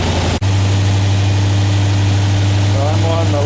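A 1976 Corvette restomod engine idles while its Vintage Air conditioning is charged with refrigerant, giving a loud, steady, close rumbling drone that holds evenly after a brief cut near the start.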